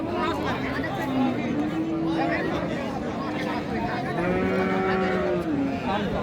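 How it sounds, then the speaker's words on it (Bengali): Cows and calves mooing at a busy cattle market, long drawn-out bellows rising over a steady babble of crowd chatter and nearby voices. "সাদা গাভী, সাদা বাচ্চা।"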